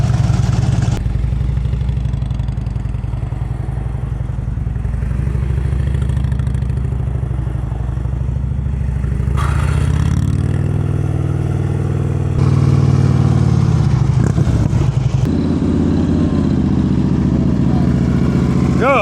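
Motorcycle engine during slow-speed riding practice in North Carolina, a steady loud low idle and putter with slight throttle changes, plus a clatter and a rise in revs toward the end.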